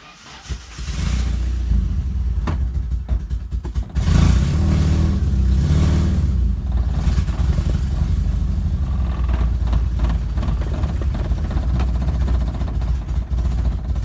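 A hatchback car engine idles roughly after a throttle body adjustment, timing slightly off, a loud steady low rumble with uneven clattering pulses that stumble and surge near the microphone, with no talking.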